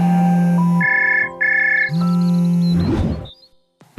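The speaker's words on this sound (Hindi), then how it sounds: "तभी उसके बेटे का फोन आ जाता है" A phone ringtone plays two bursts of a bright electronic tone over a steady low hum, then a brief rustle before it cuts off.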